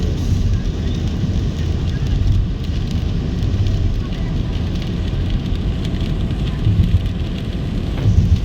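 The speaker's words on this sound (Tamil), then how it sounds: "மழையை பாருங்கள் சாத்தூர் டு மதுரை போகிற வழியில் ஹைவேயில் நல்ல மழை" Heavy rain falls on the Sattur to Madurai highway while driving, a dense, continuous roar of rain and road noise with low rumble heard from inside the moving vehicle.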